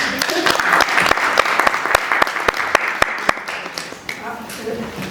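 Steady applause from an audience, dense clapping that fills the room, with scattered louder claps and a few voices mixed in, tapering off near the end.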